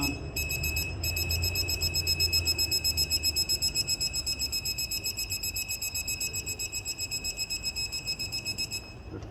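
A torque wrench's rapid, continuous high-pitched electronic beeping pulses steadily for several seconds, close by, then cuts off abruptly, during timing chain work on a W212 Mercedes.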